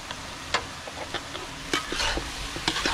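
Onions and rock salt being stirred and mixed in a hot pan, with close, repeated scraping and clacking strokes of the spoon over a steady background sizzle of frying.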